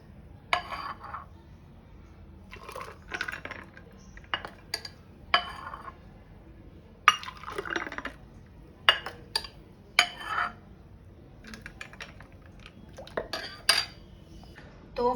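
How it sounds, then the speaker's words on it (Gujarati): Ice cubes drop into a glass before sugarcane juice goes in, making a string of sharp clinks and clatters in uneven bursts, close and fairly clear against a quiet background. "એમાં આપણે આઈસ ક્યુબ એડ કરી દેશું અને હવે આપણો શેરડીનો રસ એડ કરી દઈશું"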